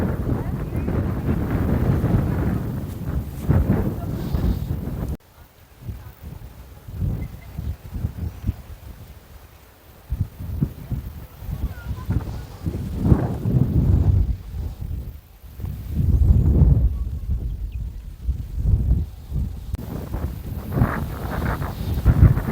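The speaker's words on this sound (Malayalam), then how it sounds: "ആ കാറ്റ് കൊണ്ടുപോവാടാ. കാറ്റ് കൊണ്ടുപോവാ." Strong wind gusts buffet the microphone on the open hilltop of Muneeswaran Kunnu beside a deep drop, a steady roaring rush that swells and fades while people talk through it.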